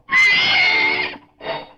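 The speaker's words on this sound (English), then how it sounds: "We must take our friend the horse along to find him a new home." A horse neighs in a cartoon scene, one long, loud, shrill whinny followed by a shorter, softer second whinny, close and clear with no talking.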